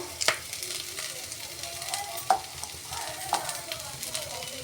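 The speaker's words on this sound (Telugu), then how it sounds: "నాలుగు పచ్చిమిరపకాయలు రెండు ముక్కలుగా ఇట్లా చింపి వేపుకోవాలి" Green chillies split in two and frying in hot oil, a steady close sizzle with occasional stirring clinks and scrapes of a spoon in the pan, moderately loud, with no talking.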